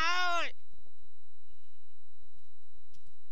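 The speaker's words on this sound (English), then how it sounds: "Yeah, I'm gonna murder all these sheep." A single loud sheep bleat from the video game Minecraft, sharp and close, lasting about half a second at the start, followed by quiet with a few faint clicks and taps.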